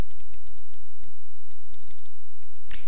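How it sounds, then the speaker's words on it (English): Steady clatter of typing on a computer keyboard while a name is entered, with quick, even key taps for about three seconds, close and fairly loud, ending in a sharper click. "Type in your name,"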